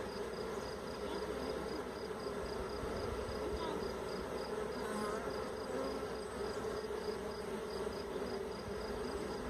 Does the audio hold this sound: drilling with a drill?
no